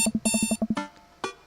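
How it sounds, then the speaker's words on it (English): An alarm clock beeps in the video game Dream Daddy, a quick run of short, loud electronic beeps in a rapid pattern, then a brief pause and one more beep, with no talk. "I jolt awake to the sound of my alarm."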